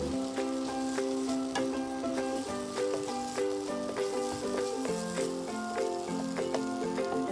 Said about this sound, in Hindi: अदरक का पेस्ट, ये सिर्फ अदरक का पेस्ट है, इसमें मैंने लहसुन नहीं डाला है। इसे हम लोग थोड़ा सा पकाएंगे।